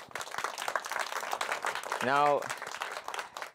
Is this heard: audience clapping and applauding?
yes